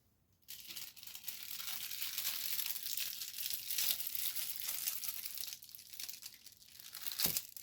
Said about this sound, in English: so now we're going to pull the wet strength tissue paper.